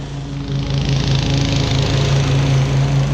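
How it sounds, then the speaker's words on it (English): Lawn mower running on a hard, compacted lawn, a loud continuous engine drone with a steady low hum that grows slightly louder after the start. "I never mow this section this direction"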